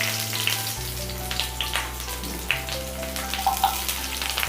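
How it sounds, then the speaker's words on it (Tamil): Onions sizzle and crackle in hot coconut oil for a Kerala fish pollichathu, a steady close frying hiss with scattered pops and a low hum underneath. "இதில் நம்ம வச்சுருந்த வெங்காயத்தில் பாதியை மட்டும் நீங்கள் சேர்த்துக்கோங்க."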